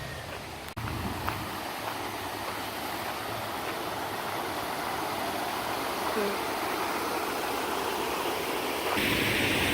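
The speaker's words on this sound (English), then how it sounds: "Look at how slowly the water is moving, and then it's gushing forth." Water gushing in a forest stream near a waterfall, a steady, dense broadband rush throughout, close and loud, with a brief knock near the start.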